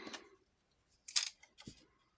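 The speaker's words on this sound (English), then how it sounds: "I just cut right along the top of the edge" Two quick crisp snips of decorative scissors cutting along the top edge of folded paper, close and clear, with a softer rustle at the start and quiet gaps between cuts.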